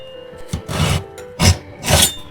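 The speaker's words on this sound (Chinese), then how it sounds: "洗淨的黃瓜去掉頭和尾，首先1分為2切開，然後再切成條。" Several separate knife strokes cut through a washed cucumber, first halving it and then slicing it into strips on a board. Each crisp chop stands out clearly, close by, against a quiet background.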